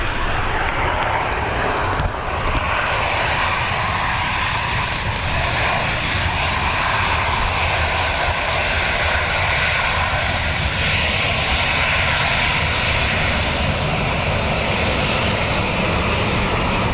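Aircraft engines roar steadily at Dublin Airport on a windy, wet day, a loud broad continuous rumble and whoosh with no voices.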